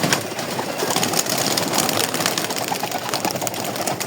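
Pigeons, including Pakistani and Giribaz breeds, coo and flutter at close range in a dense continuous bird chorus with a steady hiss of background noise, no speech.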